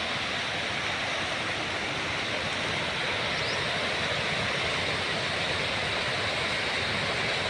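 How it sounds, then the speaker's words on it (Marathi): A waterfall on the Krishna river near Soneshwar temple roars as an unbroken, even wash of rushing water, loud and alone with no voices. "हा तो धबधबा"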